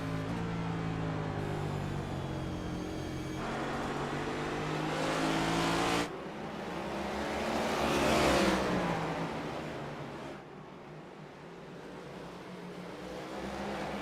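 Race car engines at a short-track all-star race, drivers feathering the throttle out of corners: loud droning engines rising and falling in pitch as cars pass close, with revving surges and no talk.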